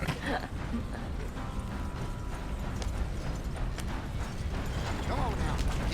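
A horse's hooves pound in a rhythmic clip-clop gallop in Red Dead Redemption 2, with mechanical tack rattles and ambient outdoor noise, and a brief snort or whinny near the end.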